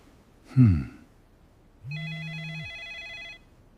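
A short thud, then a telephone rings once with a warbling electronic trill over a low tone, fairly close and clear.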